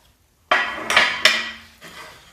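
A ball peen hammer, one of a grandfather's old tools kept in a bucket, handled in a quiet room: a few close metallic clinks and scrapes that ring briefly and fade, with no talk.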